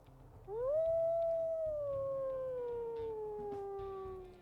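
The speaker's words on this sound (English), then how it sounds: "But we'll also listen to her howls here." A wolf howls in a video game: one long, loud, clear note that rises sharply, then holds and slowly falls for about four seconds over a faint low rumble.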